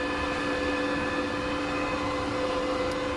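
Steady whirring hum of the cooling fan on a YamaPro 300-ampere inverter-type welding machine, running continuously and evenly at close range with no talk over it.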